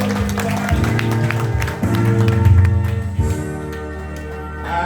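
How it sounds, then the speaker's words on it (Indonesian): During an Indonesian Independence Day church service, the congregation claps under loud sustained band music, the applause scattered and partly masked by low bass and keyboard chords. "Tepuk tangan yang meriah"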